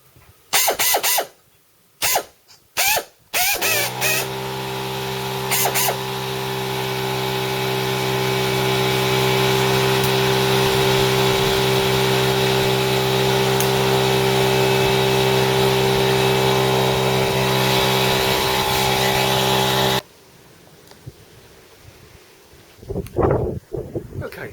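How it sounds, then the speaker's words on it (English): Second-hand CP pneumatic air drill on an air hose with a small leak, whirring in a steady, loud, close drone for about sixteen seconds after a few sharp clicks and hisses, then cutting off. "CP air drill. There we go. Let's plug that one in."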